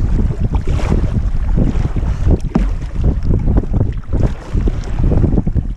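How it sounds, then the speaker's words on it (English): Strong wind buffets a canoe on Waldo Lake, Oregon, roaring steadily and loudly across the microphone with gusty surges and faint water slapping against the hull. "We are fighting a very decent amount of wind right now."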